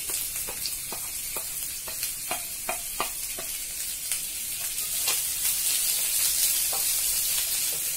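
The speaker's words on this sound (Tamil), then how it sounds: "ரெண்டு பெரிய வெங்காயத்தை பொடி பொடியா கட் பண்ணி வச்சிருக்கேன், அதையும் இதுல சேர்த்துக்கலாம்." Finely chopped large onions go into hot oil in a pan for channa masala, a loud continuous sizzle with sharp crackles and stirring clicks that swells and thickens toward the end.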